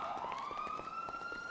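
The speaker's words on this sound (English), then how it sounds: "I hear the sirens." Police sirens in the video game GTA 5, a rising wail sweeping upward at moderate distance, with a faint pulsing rhythm underneath and no clear speech.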